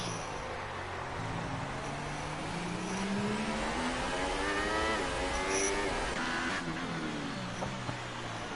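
A race car engine on a street circuit in Singapore revs hard and steady throughout, its pitch climbing and falling as the driver works through the gears. The sound is loud and continuous, with no talk over it.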